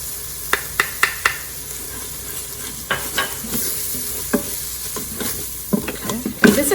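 Ground spice mixture and paprika sizzle steadily in a hot Instant Pot for Nihari, with a spoon scraping and clicking against the pot in several sharp knocks over the continuous frying hiss.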